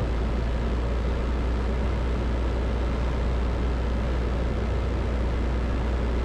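Cabin noise inside a Zenith CH 750 Cruzer light airplane in flight with full flaps deployed: a loud, steady broadband engine and wind drone that fills the whole stretch without any voices.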